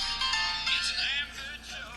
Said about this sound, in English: I'm getting a call from New Hampshire.